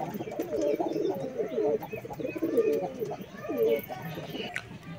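Giribaz pigeons coo steadily in a loft in Kolkata, with repeated soft, throaty coos from several birds nearby and a few faint chirps over the top.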